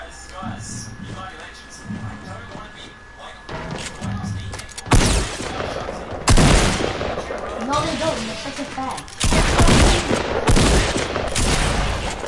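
Gunfire from the Fortnite video game in bursts of loud broadband shots, with bigger blasts near the fifth, sixth and ninth seconds, while a voice talks underneath in the early part.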